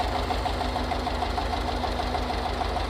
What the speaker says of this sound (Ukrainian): Тракторець все працює.